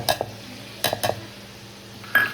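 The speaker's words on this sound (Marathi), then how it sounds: "इकडं तळतंय" Masala paste of tomato and onion fries in leftover prawn oil while being stirred in a pan. A few short scraping stirs and clinks sound over a faint sizzle.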